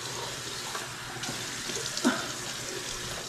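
Steady stream of tap water running into a bathroom sink while a face is wetted, a constant close hiss with a small splash near the middle.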